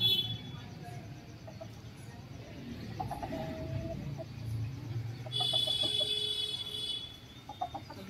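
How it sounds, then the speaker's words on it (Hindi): Hens cluck softly and intermittently while dust bathing in soil outdoors on a sunny day, a few nearby calls over a quiet background. "मुर्गियां हमारी मिट्टी में लौट रही हैं।"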